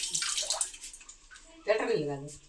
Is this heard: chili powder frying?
no